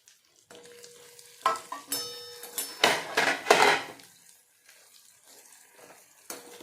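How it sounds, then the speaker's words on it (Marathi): Spiced masala frying with brinjal in a pan for a village-style vangi bhaji, cooked until the oil separates: intermittent sizzling bursts and scraping stirs, close and moderately loud, with quiet gaps between, no talking. "आता हा मसाला आपल्या इथे तेल सुटेपर्यंत हा इथे आपल्या वांग्यामध्ये याला फ्राय करून घ्यायचं आहे"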